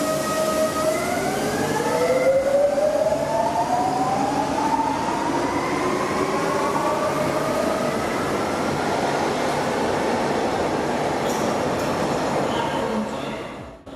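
Underground tram in Malaga accelerating away, a loud steady rumble of wheels and motors with rising whining tones climbing in pitch over fourteen seconds, then easing off at the end.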